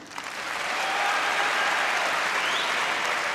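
A packed crowd at a 1987 All England badminton match between Icuk Sugiarto and Morten Frost breaks into loud, sustained applause, swelling in the first half-second and holding steady as a dense wall of clapping.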